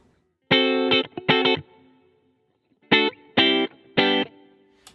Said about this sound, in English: my standalone, very basic hall reverb setup